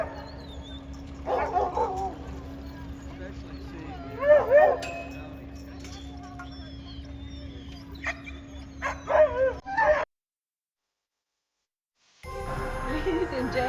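Sled dogs at an Alaskan dog-sledding camp bark, yip and whimper in scattered bursts, some near and some farther off, over a steady hum. The sound cuts out briefly before the noise returns.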